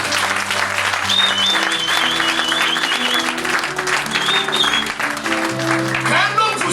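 Church congregation applauding and cheering for the Lord, sustained clapping mixed with voices and sustained music notes, loud and continuous throughout.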